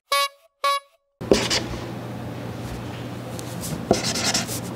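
Pen or pencil scratching steadily across paper while favourite numbers are written out by hand, a close, continuous rubbing with small bursts of stroke noise, following two short spoken words at the start.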